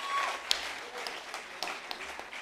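An audience at a film trailer launch event claps for the music composers, producing fairly faint, steady applause with a few sharper claps standing out.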